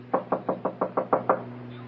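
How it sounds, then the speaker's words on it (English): Eight steady, evenly spaced knocks on a door, firm and close, with a low hum underneath and no voices. "Didn't you hear me knock?"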